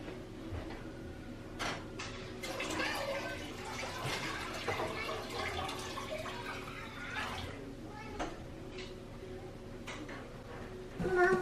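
Black walnut sap poured through a filter runs in a steady, close trickle and splash of liquid lasting several seconds, with a person talking over it.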